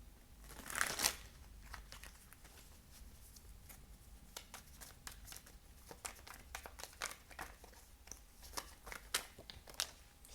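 Tarot cards being shuffled by hand, a soft close riffling and crinkling that swells loudly at first, then continues as quieter, irregular flicks and taps in a quiet room.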